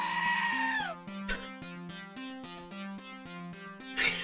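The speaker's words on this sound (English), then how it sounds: "I didn't realize that was a sheep screaming." Sheep bleating and screaming in the video game Arcade Spirits, a strained wavering cry repeated several times over a steady synthesized game melody.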